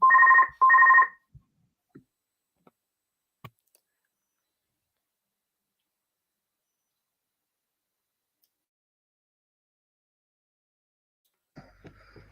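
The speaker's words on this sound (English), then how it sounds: "So I've got a phone call going on." A telephone rings in two short, bright bursts right at the start, then falls silent, leaving only a few faint clicks and near-silence until a soft murmur at the very end.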